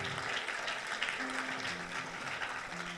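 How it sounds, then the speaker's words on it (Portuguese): A church congregation applauds during a sermon, a steady patter of many hands clapping at moderate distance. The clapping keeps an even level throughout the short burst. "Dá mais uma salva de palmas a Ele."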